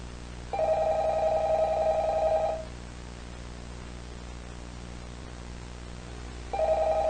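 A telephone rings with a long electronic trill lasting about two seconds, then a pause over steady hiss before the next ring begins.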